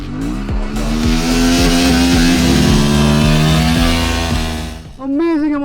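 Honda Transalp XL750 motorcycle, a 2024 model, accelerating hard through several gears, each shift a rising engine note, loud and close from the rider's position before a brief drop and a final rev.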